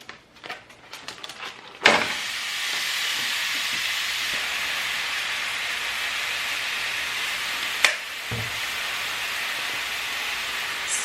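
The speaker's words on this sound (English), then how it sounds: "Time to throw the meat in now." Ground meat for Taco Bell-style crunchwraps hits a hot pan with a sudden loud burst, then settles into a steady, broad sizzle that continues evenly, broken by a couple of brief clatters.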